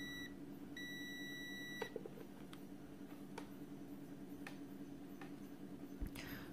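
Two steady electronic continuity tones from a KAIWEETS digital multimeter, a short beep and then a longer one lasting about a second, clear over quiet room noise with a few faint clicks from the probes.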